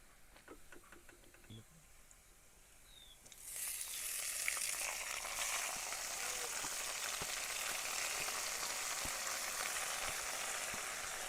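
Garlic cloves and fried tajaliya greens drop into hot oil for a village-style bhaji; after quiet handling a loud, steady sizzle erupts and keeps frying evenly for several seconds.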